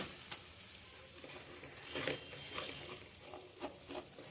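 Black chili masala roasting in oil for Solapur-style mutton rassa, a quiet close sizzle broken by scattered soft scrapes and pops as it is stirred.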